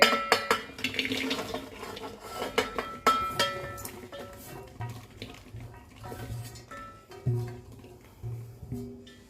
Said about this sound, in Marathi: आता आपण या पातेल्यामध्ये सगळी भेंडी घालूयात सर्वात आधी